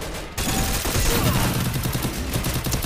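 Rapid video game gunfire during a match on the Purgatory map, a dense, loud burst of repeated shots over about three seconds after a short quieter opening.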